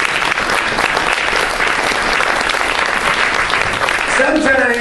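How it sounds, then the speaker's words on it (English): A comedy-show audience breaks into sustained applause, a dense even wash of clapping that stays loud for the whole stretch, with a voice starting to speak faintly over it near the end. "By the way, there should be applause."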